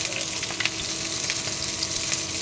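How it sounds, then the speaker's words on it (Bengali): Dry chili, chopped onion and green chilies frying in hot oil in a Bangladeshi village kitchen, a steady close sizzle with crackling pops throughout and no talk. "তেল গরম হয়ে আসছে, আমি এখন একটা শুকনো মরিচ দিয়ে দিলাম।"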